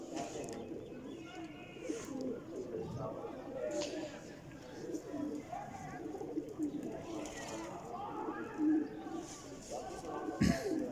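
Pigeons coo continuously at a breeder's loft, a low layered murmur of several birds close by, with someone talking over them throughout and a sharp knock near the end.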